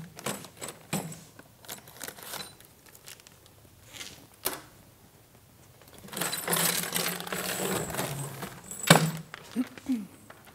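Metal springs from a Pilates studio reformer jangle and clink as they are cut free and unpacked, with scattered light metallic taps giving way to a denser, louder stretch of rattling and rustling near the end, with brief talk at the start.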